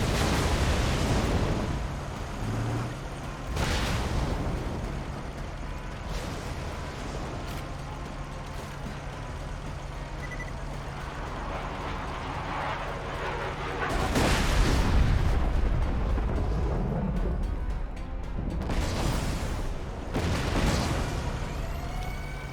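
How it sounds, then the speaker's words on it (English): Repeated grenade blasts from a Kerblaster launcher in a shooter game, fired during a boss fight: deep booming bursts land every few seconds over a constant rumbling wash of game noise, with heavier hits late on. "I was shooting grenades."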